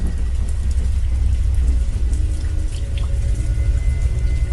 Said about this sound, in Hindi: बारिश काफी ज्यादा तेज हो रही है